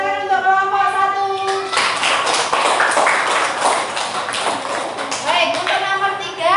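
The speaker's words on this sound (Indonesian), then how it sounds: "Kasih tepuk tangan untuk kelompok 1." A classroom of children gives a burst of clapping and tapping for a group of classmates, loud and close, with a teacher's voice before and after the applause.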